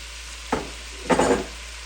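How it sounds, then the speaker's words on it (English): Garlic and onions tipped into a pan of half-cooked sausage, two short bursts of sizzling as the pieces hit the hot fat, close and fairly loud against a quiet background. "I will add my garlic and onions"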